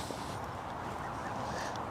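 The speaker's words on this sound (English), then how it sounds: "So, family of geese." A family of geese, two adults and four goslings, honk and call near the water at Gold Valley Lakes during a fishing match, a steady noisy clamour with no clear gaps.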